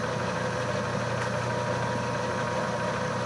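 A Clausing 13 x 40 variable speed lathe runs at about 50 RPM in its low range, giving a steady, even mechanical hum with no talking.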